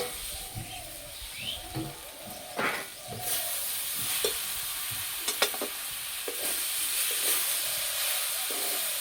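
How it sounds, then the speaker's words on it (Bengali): Spring onions fry in a pan, hissing and sizzling steadily up close, with stirring scrapes and clatter breaking through now and then and the hiss swelling louder after the first few seconds; nobody speaks. "পেঁয়াজ ভাজা হয়ে গেছে"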